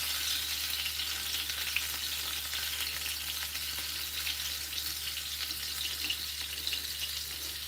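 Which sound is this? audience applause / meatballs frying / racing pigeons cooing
meatballs frying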